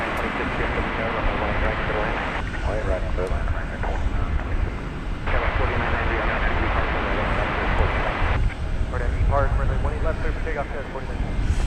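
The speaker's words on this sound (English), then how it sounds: "American Airlines Flight 2496 from Portland, Oregon is next in line for arrival" An American Airlines airliner, Flight 2496 from Portland, Oregon, arrives at DFW Airport with a steady, broad jet roar that swells and eases while people talk over it throughout.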